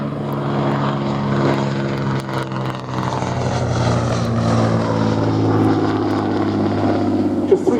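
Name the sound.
Hawker Nimrod biplane flying in air display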